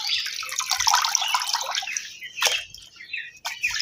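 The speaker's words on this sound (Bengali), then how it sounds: "এইগুলো সুন্দর করে ধুয়ে নিচ্ছি" Raw meat pieces being rinsed in water in a home kitchen, with close, continuous splashing and trickling that briefly swells with louder sloshes, and no talking.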